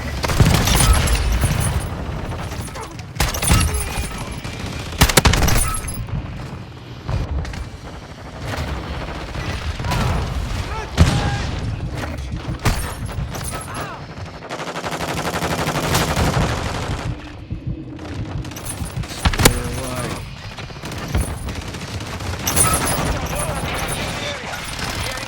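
Rapid bursts of full-auto shotgun fire boom through a first-person shooter match, with repeated heavy volleys, brief gaps between strings and game effects around them.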